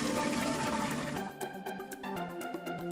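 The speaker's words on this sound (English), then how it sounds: "continues to fill the wine jars with water" Water gushes into wine jars with a loud rushing splash that gives way to gurgling trickles and drips as the jars fill.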